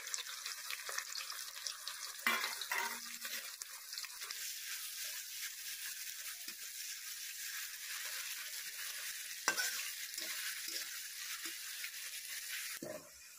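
Chopped onion and black cumin fry in a pan, making a continuous soft sizzle, broken by a few clatters from a spoon stirring the pan. No one speaks.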